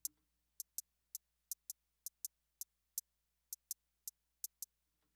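Crisp, bright hi-hat ticks from a Memphis-style rap beat in a steady, slightly uneven rhythm, dry and isolated with nothing else playing.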